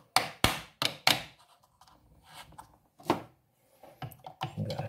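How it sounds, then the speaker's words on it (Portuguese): Small hammer knocking out a roll pin from the fan of a Jacto J6200 sprayer motor, a few sharp separate taps followed by quieter handling noises and brief talk. "deixa eu pegar um martelinho aqui para a gente tirar esse pino elástico aqui"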